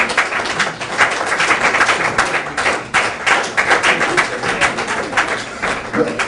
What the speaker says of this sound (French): il faut continuer de l'applaudir